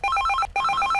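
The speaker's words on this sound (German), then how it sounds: "Er hat auch den geilsten Handy-Klingelton." A mobile phone ringtone from the Die drei Fragezeichen video game chirps in quick repeating electronic trill bursts, loud and clear with one brief gap midway.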